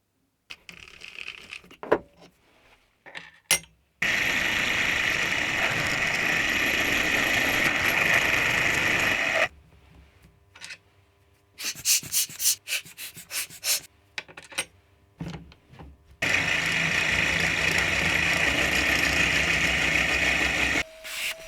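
A milling machine cuts tough steel base jaws for a split-jaw mini lathe chuck, heard as long stretches of loud, steady grinding broken by quiet gaps and short clanks, close and without talk.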